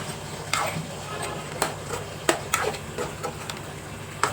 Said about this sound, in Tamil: சேர்த்துட்டு ஒரு 3 நிமிஷம் அப்படியே வந்து வதக்கி விட்டுருங்க